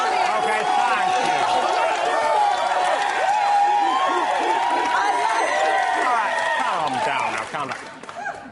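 A studio audience applauds and cheers loudly and steadily with whoops, a dense crowd roar that fades near the end.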